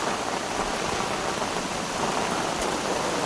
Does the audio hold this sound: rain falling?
yes